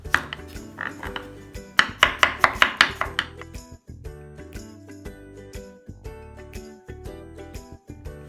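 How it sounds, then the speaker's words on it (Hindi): A knife chops onion on a board in steady, crisp strikes, speeding up into a quick rapid burst before settling back into a slower, even rhythm. "चलिए ये प्याज की कटिंग हो गई"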